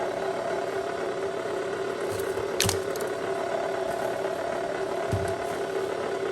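A new copper wire stripper tool works through thick wire, giving a steady mechanical whir with a couple of sharp metallic clicks, close and fairly loud, with no talking.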